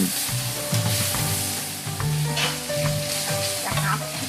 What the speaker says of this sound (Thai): ตั้งกระทะเปิดไฟใส่พริกแกงคั่ว นำกะทิลงไปเคี่ยวให้เดือด คลุกเคล้าให้เข้ากัน